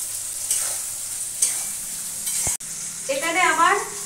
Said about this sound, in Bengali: এবার এই পেঁয়াজটা আর টমেটোটা ভালো করে একটু ভাজা ভাজা করে নেব।